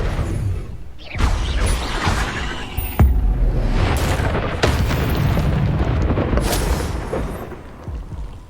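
Blasting-spell explosions from the Hogwarts Legacy video game boom repeatedly, loud and dense, with sharp cracks and rumbling bursts layered over continuous game noise.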